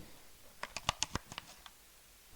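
Buttons on the keyboard of a video game controller are pressed in a quick run of about nine soft, crisp clicks, close and quiet, with near silence before and after.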